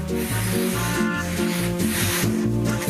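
A drywall rasp shaves down the edge of a drywall panel that stands too tall for its wall, giving a steady rough grating under loud background music.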